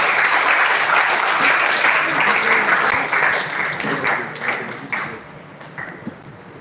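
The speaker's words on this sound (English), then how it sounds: "So I want to give yourself a resounding applause." An audience gives a warm round of applause at a live event, dense clapping that holds steady, then thins out and fades, with a few scattered claps at the end.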